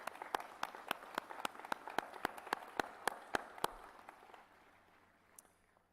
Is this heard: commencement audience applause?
yes